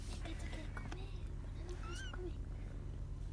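Kittens meow in short high calls several times, close by, over a constant low hum, while someone talks in Spanish.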